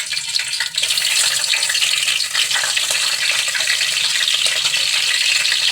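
Green chillies sizzle in hot sunflower oil in a pan for tempering a village-style mushroom sambar, a close, continuous crackling hiss with little change, no voices.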